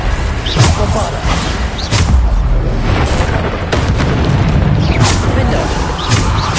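Bombarda spell blasts in Hogwarts Legacy: a dense run of loud, booming explosions and thuds in rapid succession amid constant combat noise, with no clear gaps.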